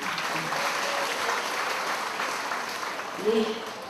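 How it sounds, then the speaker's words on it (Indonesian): A crowd of men at a community mutual-aid event in Lumajang, Indonesia, claps together in steady, moderately loud applause, with a brief voice rising near the end. "saya mohon tepuk tangan Bapak-bapak"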